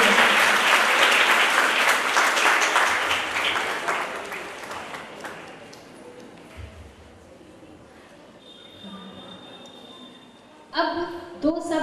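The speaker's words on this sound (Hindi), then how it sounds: "आप कृपया तालियों से स्वागत करें" An audience at a girls' school function applauds to welcome the chairman, a dense, loud burst of clapping that gradually thins and fades over several seconds before quieter hall sounds and a voice return.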